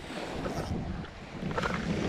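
Strong wind and rough waves along the Bang Saen coastline during squid fishing, a continuous broadband roar of wind buffeting close by with surf washing underneath, fairly loud and steady with no talk.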